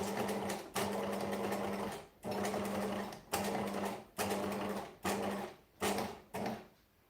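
Sewing machine stitching in repeated short bursts, each run lasting about a second with brief pauses between, close and clear with a steady mechanical whir and no talking.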